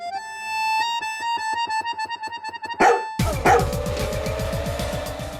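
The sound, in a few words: dog barking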